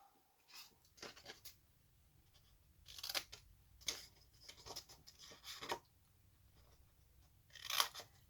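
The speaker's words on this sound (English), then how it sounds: "I'm going to round all these corners using my punch" A handheld corner punch rounds the corners of paper for a stamped money wallet, producing a series of crisp, quiet clicks and crunches spaced irregularly through a near-silent room.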